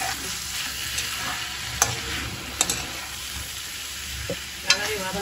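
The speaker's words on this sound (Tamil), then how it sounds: "போட்டு நல்லா கிளறணும்." Chopped tomatoes and squid fry in a pan, giving a soft continuous sizzle broken by a few sharp scrapes and clicks of a stirring spoon.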